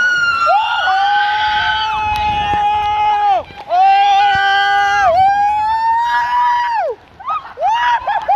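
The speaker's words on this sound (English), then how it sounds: "Let's scream, everybody!" A group of riders on a water slide at Splashdown Beach water park let out loud, sustained screams in several long bursts, with short gaps between them.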